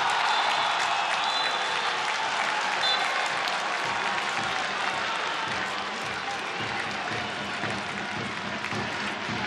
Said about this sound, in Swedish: De tillresta Peking-supportrarna får jubla